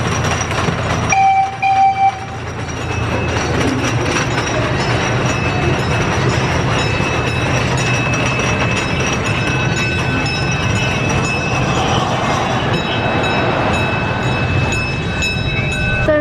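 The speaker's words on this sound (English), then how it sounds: "So the train ride makes a little loop back there" An amusement park train ride at Waldameer in Erie rolls past close by, a continuous rumbling clatter of wheels on track with faint squeals, steady and loud throughout.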